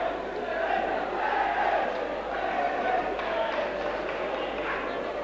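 Football stadium crowd of around 2,000 at Preston North End v Burnley in wind and rain, a steady distant roar of voices and chanting, with a commentator's voice over the top.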